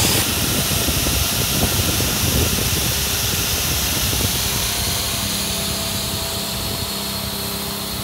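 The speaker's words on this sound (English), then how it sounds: "That's the booster. Strong airflow coming out." An air booster pump on an AquaBanas Party Bana P10 inflatable combo blows a strong, steady rush of air. The loud roaring hiss runs unbroken and close throughout, with a faint motor hum beneath.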